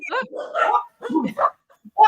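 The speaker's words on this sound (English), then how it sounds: "What an intro. Even the dogs have kicked off." Dogs barking and yipping in short bursts indoors, loud and close, interleaved with people talking nearby.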